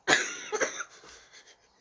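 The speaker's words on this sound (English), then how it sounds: "Oh my god, I'm sorry about the coughing." One person coughs sharply in a chilly room, a loud burst followed by two or three smaller trailing coughs that fade out.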